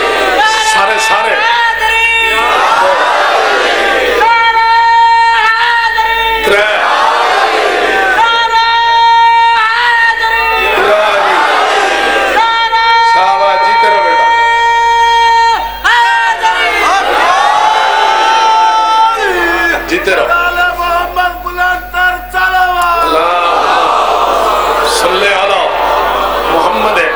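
A crowd at a Muharram majlis chants religious slogans in loud, repeated call-and-response bursts, voices swelling together in rhythmic waves with brief pauses between each chant.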